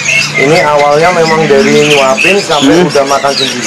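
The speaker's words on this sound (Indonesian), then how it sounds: "ini jalak Hong Kong udah kelihatan suaranya udah enak" A young crested myna at a bird market gives squawking calls, partly masked by someone talking loudly close by.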